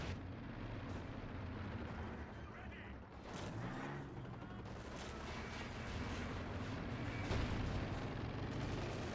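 Battle noise from the Company of Heroes 2 strategy game, with dense gunfire and artillery blasts rumbling together into a continuous loud wash, one heavier thump near the middle and sharper cracks scattered throughout.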